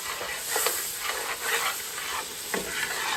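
Sauce piquant bubbling and spattering in a pot while being stirred, a steady close hiss with soft scraping strokes of a spoon over the bottom, no voices.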